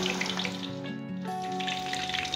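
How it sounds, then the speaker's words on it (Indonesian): Tofu frying in hot oil in a pan, a steady soft sizzle and crackle running continuously at low volume with a faint ringing tone over it, no voices. "Kita goreng tahunya sampai berwarna kecoklatan atau berkulit ya pemirsa."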